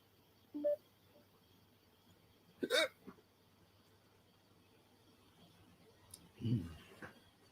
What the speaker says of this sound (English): Had a hiccup.